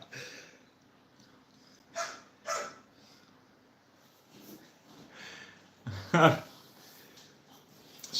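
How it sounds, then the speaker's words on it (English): A dog barks intermittently, with scattered sharp barks of varying strength and one louder, closer bark near the end, over a quiet background. "The dog's barking."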